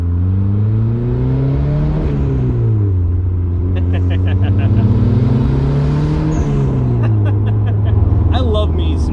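A turbocharged Mazda Miata race car engine drones loudly, its pitch rising and falling as it revs through gears, with faint squeaks and rattles over the steady roar.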